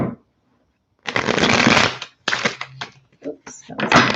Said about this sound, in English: Oops, that was not a good shuffle.